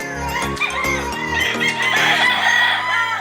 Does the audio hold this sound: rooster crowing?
yes